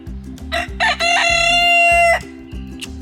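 A rooster crows loudly and close in a backyard garden flock, one long sustained cock-a-doodle-doo after a few short clucking calls, with quiet low background hum throughout.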